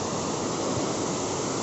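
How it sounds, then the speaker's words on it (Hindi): An upper waterfall in the mountains near Bagha Sarahan, a steady rushing wash of falling water, even and unbroken, close by with nothing else heard. "ये है ऊपर वाला झरना।"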